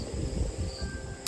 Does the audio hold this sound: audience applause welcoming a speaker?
no